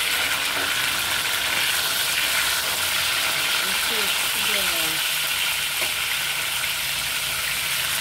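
Galunggong fish frying in a non-stick pan, a steady broadband sizzle holding at an even level throughout, with faint stirring and scraping touches and a brief tonal squeak near the middle.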